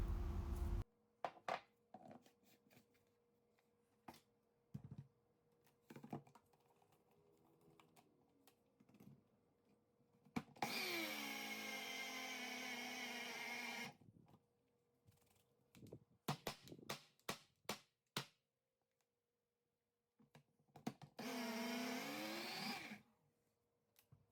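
A kitchen blender grinds toasted ingredients for Moroccan sellou in two loud, sustained bursts of a few seconds each, separated by quieter clicks and kitchen handling noises, with no talking.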